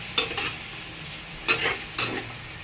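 Pork paksiw of pata in a pot is stirred at close range, three distinct scraping strokes of a spoon over a low simmering sizzle, no talk.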